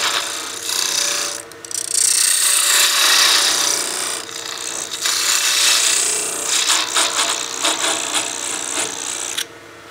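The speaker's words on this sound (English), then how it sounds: "I'm just using the nano parting tool right now." A nano parting tool cuts into wood on a lathe spinning near 2,000 RPM, making a loud, steady scraping hiss with brief dips and rougher rasping surges, close up and without talk.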